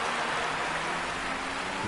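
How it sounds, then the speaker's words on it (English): Steady, dense rain in the F1 2020 racing game during a wet night race at Singapore, a continuous broadband hiss filling the whole stretch with no voices over it. "as the rain's getting heavier"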